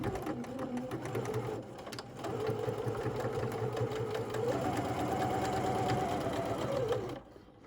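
A sewing machine runs steadily while back stitching a collar, a continuous close mechanical whir with a brief pause near the two-second mark before it resumes and then stops near the end.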